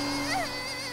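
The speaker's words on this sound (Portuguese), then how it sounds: "É só um aspirador de pó." A vacuum cleaner runs at night in a Peppa Pig cartoon, a steady loud whirring drone with a brief rising and falling whine, heard alone.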